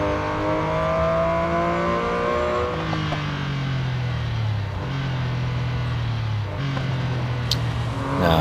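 Porsche 959 engine racing in the game Real Racing 3, a steady loud drone climbing and dropping through gear shifts on the final lap, with tyre skid noise and no talking.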